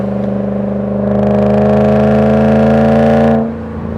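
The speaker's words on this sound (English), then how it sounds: "Oh man, this exhaust sounds so good. Listen to that." A Volvo S80 V8 with a custom exhaust drones loudly and steadily while driving, its deep tone swelling under acceleration before dropping off abruptly near the end.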